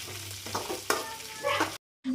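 Raisins frying in hot oil in a pan at home, with a close steady sizzle and stirring scrapes, rising briefly near the end before a sudden cut to silence and a short return of sizzling.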